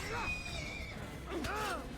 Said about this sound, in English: We're just gonna get on our horse now